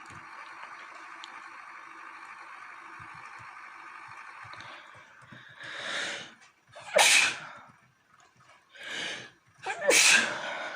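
A man sneezes twice in quick succession, loud and close, over a steady background of farming-sim tractor engine noise from an Ursus C-355 ploughing game.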